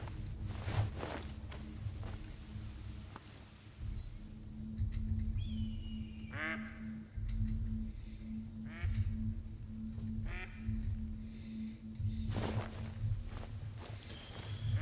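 Ducks quacking in The Hunter: Call of the Wild, several short distant quack calls spaced out over soft ambient outdoor noise and faint footsteps.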